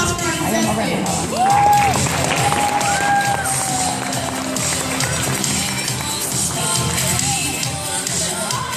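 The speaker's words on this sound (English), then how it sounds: "Everyone give a round of applause for our contestants." A stage audience claps and cheers for contestants at a comedic pageant show, a steady loud crowd roar with whoops and a rising whistle-like tone, under an amplified announcer's voice.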